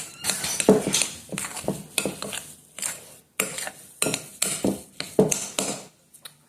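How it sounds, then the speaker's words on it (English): A utensil stirring thick high-protein cookie dough in a bowl, with repeated scraping and clinking strokes in an uneven rhythm, close and fairly quiet with no talk. "Stir it all together."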